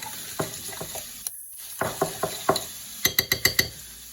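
A spoon stirs a vegetable kebab marinade thinned with freshly squeezed lemon juice, tapping and clicking against the bowl in quick irregular strokes, with a rapid burst of clinks toward the end and no talk.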